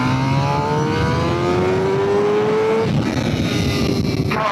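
A Suzuki GSX-R600 sport motorcycle is ridden hard on a track, its engine a loud, continuous high-revving whine that climbs, then drops in pitch as it shifts or eases off, close and alone.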